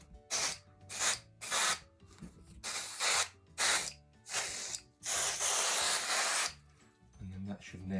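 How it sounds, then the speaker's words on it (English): An aerosol sprays onto the ends of a part on a blues ES-style guitar in a close series of short hissing bursts, followed by one longer sustained blast and a brief final spurt. "spray the ends through the hole"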